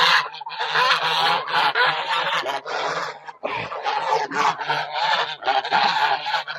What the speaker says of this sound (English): These are guard geese, white Chinese geese.